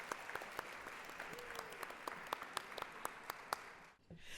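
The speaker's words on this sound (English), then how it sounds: "a round of applause for our main sponsor" Sustained applause from a crowd at a gala awards dinner honoring a bank sponsor, steady dense clapping with a few sharper claps, fading out near the end.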